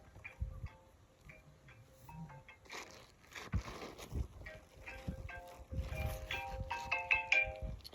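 A mobile phone rings with a faint melodic ringtone during a short trip in a forest, its repeating tones mixed with soft ticking and handling clatter nearby.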